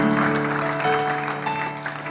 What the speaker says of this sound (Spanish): Denle un aplauso fuerte a Cristo,